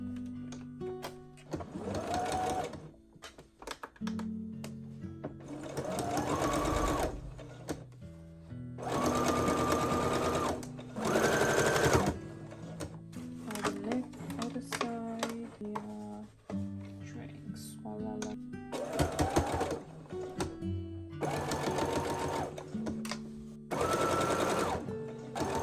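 A home sewing machine stitches the side seams of a nightgown in repeated bursts of close, steady whirring, separated by pauses, with a person talking over parts of it.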